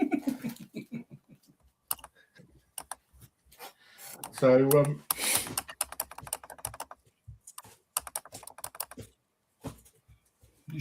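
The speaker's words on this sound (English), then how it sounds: "just typing." Keyboard typing in short irregular bursts of clicks, close by and moderately loud, running under and between people chatting.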